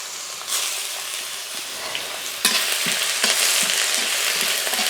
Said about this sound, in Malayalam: അപ്പോൾ അതിനായിട്ട് കടുക് വറുത്തിട്ട് കറിവേപ്പില ഇട്ടു.